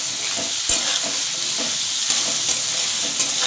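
Potatoes fry in a pan with salt and turmeric, a steady close sizzle broken by the scrape and clack of a spatula stirring them.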